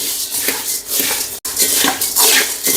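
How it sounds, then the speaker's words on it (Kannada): Unsalted Mysore puffed rice being dry-roasted in a pan gives a close, continuous dry rustling and scraping crackle with repeated stirring strokes and one brief pause partway through. "ನಾನು ಉಪ್ಪು ಇಲ್ಲದೆ ಇರ್ತಕ್ಕಂಥ ಪುರಿಯನ್ನು ತಗೊಂಡು ನಮ್ಮ ಮೈಸೂರು ಪುರಿಯನ್ನು ಹುರ್ಕೊತಾ ಇದ್ದೀನಿ"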